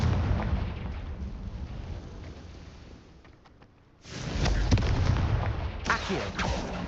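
Confringo explosion spells in the Hogwarts Legacy game, deep rumbling booms and blasts that swell, fade to a quieter stretch, then burst loudly again with crackling impacts.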